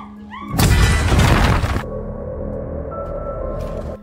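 A single loud grenade explosion bursts out indoors, a harsh, crashing boom with debris-like rumble, then settles into a lingering low hum and ringing.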